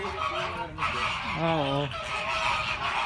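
Birds in Bermuda give a run of honking, goose-like calls near the middle, set against outdoor background noise, with brief voices around them.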